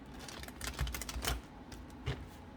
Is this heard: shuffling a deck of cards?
yes